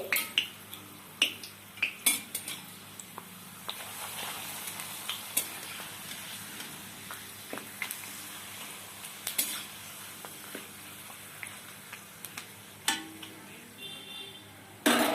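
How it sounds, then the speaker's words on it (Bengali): Papad frying in hot mustard oil in a kadai, with a steady crackling sizzle running throughout and frequent sharp clinks of a metal utensil against the pan. "গরম তেলে আমি পাঁপড় ভেজে নিচ্ছি।"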